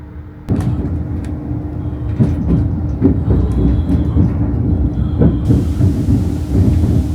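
Passenger train pulling out of York station, a loud continuous rumble with rhythmic clunks and rattles starting abruptly and holding steady throughout, heard from on board.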